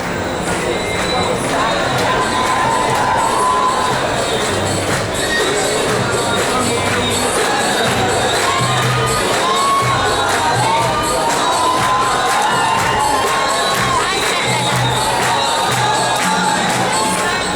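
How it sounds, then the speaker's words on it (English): Large crowd in a Dubai mall chanting and cheering, a dense, continuous roar of voices with rhythmic chants and shouts rising throughout, close and loud in a reverberant indoor space. "there's a lot of chanting and cheering and crowds trying to take photographs over here"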